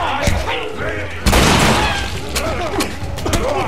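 Loud bursts of gunfire in The Last of Us Remastered, with booming impacts and crashing debris, rapid and chaotic, under excited shouting voices.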